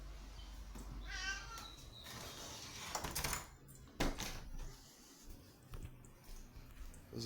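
Cats meowing at home in the morning, a few short, fairly close mews among soft household clatter and knocks, quiet overall.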